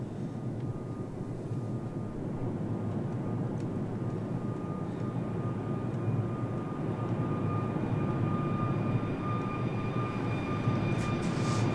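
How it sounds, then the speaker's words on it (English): A simulated Air Baltic airliner rolls out after touchdown in Microsoft Flight Simulator 2020, a steady, loud engine and airframe roar with a faint whining tone running continuously throughout. "Nice smooth landing."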